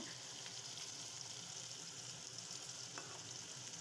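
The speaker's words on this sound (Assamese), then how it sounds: "এতিয়া কেৰাহীত তেল গৰম হ'বলৈ দি ফ্ৰেঞ্চ বিনখিনি প্ৰথমতে ফ্ৰাই কৰি লৈছোঁ" Soft, steady sizzling of french beans frying in hot oil in a kadai, quiet and close, with a few faint clicks of stirring.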